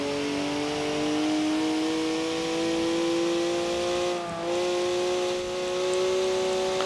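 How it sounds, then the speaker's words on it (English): A stock 2011 BMW 1 Series M Coupe's high-revving six-cylinder engine in Forza Horizon 4 revs high and steady, its pitch holding then briefly dipping before climbing again, loud and continuous with no talking. "It's got an interesting sound. High revving."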